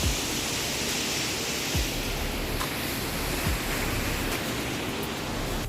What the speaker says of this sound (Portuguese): Uma mega cachoeira.